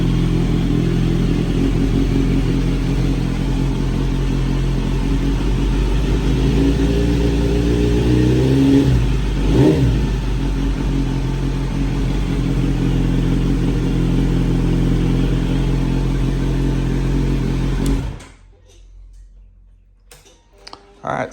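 Tuned Kawasaki Z900RS motorcycle idling after a cold start, a steady low rumble with a ticking mechanical clatter, close and continuous for most of the clip before cutting away near the end.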